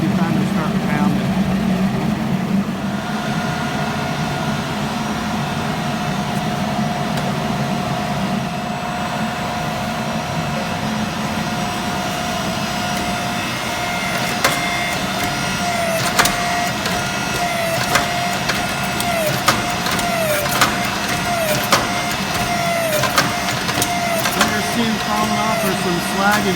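A gas forge roars steadily while heating a canister of steel for Damascus forge welding at about 2333 degrees, a continuous close broadband rush with a faint hum and scattered small ticks, while someone speaks over it.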